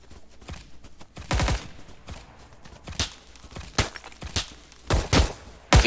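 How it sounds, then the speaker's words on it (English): Gunfire crackles through a Vietnam war video game, with scattered sharp shots and short clusters at mid distance over a low rumbling background, some reports louder and nearer than others. "Taking on fire somewhere."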